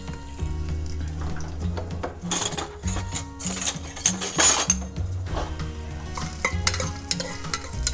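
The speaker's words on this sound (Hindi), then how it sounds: "तो स्टार्टिंग में जब ऑयल थोड़ा गर्म हो जाए, you can put crushed ginger and green chilli." Crushed ginger and green chili sizzle in hot oil in a home kitchen pan, a steady frying hiss under repeated metal spatula stirring, scraping and clinking, close and fairly loud, with no talk.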